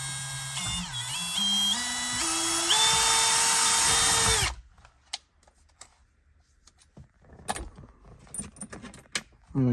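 A power drill boring a hole with a step bit, whining and rising in pitch in steps for about four seconds before stopping, followed by faint clicks and handling noises.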